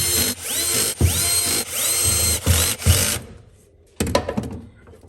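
A power drill driving tiny screws into a replacement fuel pump on a Mazda RX-7 rotary: repeated short whirring runs with pauses and ratchety clicks, close and loud, ending with a few sharper mechanical bursts.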